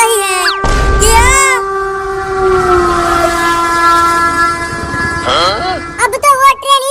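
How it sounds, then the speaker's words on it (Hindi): A cartoon train approaches with a loud, sustained horn blast, then a second rising whistle and rattling wagons, close and dominant with brief clatter. "देखो एक और ट्रेन आ रही है"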